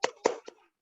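A group claps a 'tepuk salut' routine during an online teachers' webinar: two strong clap bursts followed by a softer third, in a quick even rhythm, close and clear with no talk over them.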